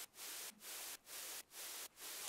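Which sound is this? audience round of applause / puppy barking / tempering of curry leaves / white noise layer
white noise layer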